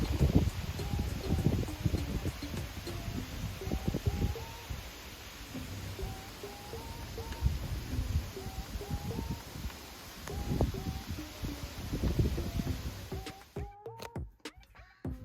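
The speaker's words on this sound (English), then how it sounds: "I like the sound of the wind. Very breezy." Breezy outdoor wind rustles and buffets steadily in gusts over fifteen seconds, with a faint repeating chirp in the background and a brief handling clatter near the end.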